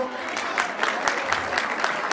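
A seated audience at a spiritual tribute gathering, honouring guests with shawls and bouquets, breaks into dense, steady hand-clapping, moderately near, with a voice partly over it.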